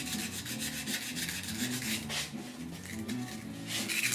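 A sanding block rubs over primer-surfacer on the rusty, pitted roof of a 1969 C10 truck in steady back-and-forth rasping strokes. The scraping is close and continuous, with no talk.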